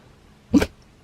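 A dog at the vet lets out one short, sharp bark close by in an otherwise quiet room.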